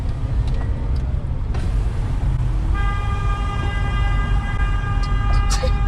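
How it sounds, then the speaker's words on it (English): A car horn blares in a long steady tone from about three seconds on, loud over constant road and cabin rumble, with no talk. "Who honking?"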